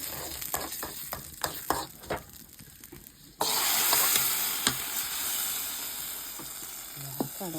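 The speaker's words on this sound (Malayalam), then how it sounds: "നമ്മളെ വറുത്ത് വെച്ച സാധനങ്ങൾ നമ്മൾ ചക്കയിലേക്ക് വെക്കാൻ പറ്റാം." Fried ingredients tipped onto jackfruit in a pan for a Kannur-style jackfruit dish: scattered clinks and scrapes first, then a sudden loud burst of sizzling that holds steady and close, with no talking.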